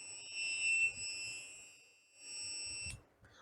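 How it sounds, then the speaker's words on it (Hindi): Buzzer of an Arduino UNO anti-sleep driver alarm sounding as a steady, loud electronic tone, cutting out briefly in the middle before resuming, with a faint low murmur beneath it. "उसके बाद मोटर बंद हो जाएगी, बजर ऑन हो जाएगा और रेड एलईडी ऑन हो जाएगी।"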